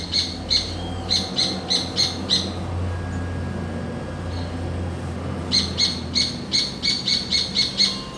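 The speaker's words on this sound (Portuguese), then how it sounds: "E os passarinhos estão de volta, né?" Small birds chirp outdoors in a light breeze, bursts of bright repeated tweets clustering at the start and again near the end with a quieter windy stretch between, fairly close and clear over a soft steady rustle.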